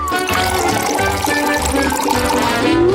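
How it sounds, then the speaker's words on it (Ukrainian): Milk pours steadily into a bowl of cereal flakes in a kitchen, a loud, continuous liquid splash and gurgle lasting the whole stretch with no speech. "Відправляємо все в миску та заливаємо молочком."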